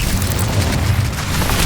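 Incendio fire spell cast in the video game Hogwarts Legacy, a loud deep whooshing boom with roaring flame-like rumble filling the whole short moment, no talk.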